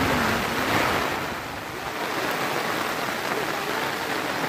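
Heavy monsoon rain pours onto flooded rice paddy fields in Konkan during planting season, a dense, steady hissing roar that stays loud and unbroken throughout.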